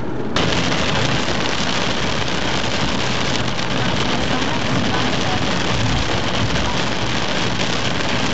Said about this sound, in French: C'est le déluge hein.